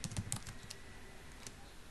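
Typing on a computer keyboard at a Windows command prompt, a quick run of soft, close key clicks in the first instant followed by a faint tap or two, with no voice.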